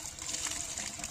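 Water flows steadily from the outlet pipe of a 7HP diesel pumping engine, a continuous bright hiss and splash with no letup, moderately distant and fairly quiet.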